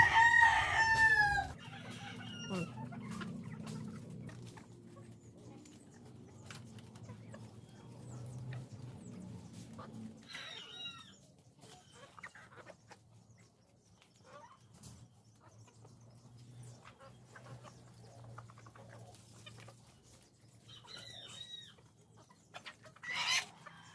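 Chickens on a small vegetable plot cluck and call steadily, with a rooster crowing loudly at the start and further crows breaking in midway and near the end, over a low rumbling background.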